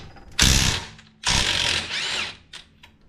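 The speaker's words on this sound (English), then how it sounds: "So I'm just going to put that on the rattle gun." An impact wrench undoes a sway bar link nut during front strut removal on a Holden Captiva, giving three loud, close bursts of rattling hammering, the first two longer and the last short.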